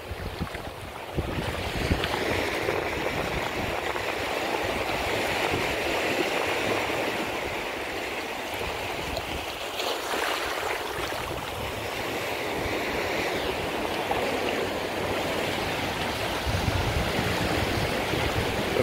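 Waves wash continuously onto a beach in Saint Petersburg, Florida, late in the afternoon, with a steady, fairly close surf roar and wind noise that swells and eases slightly without pause and no voices over it.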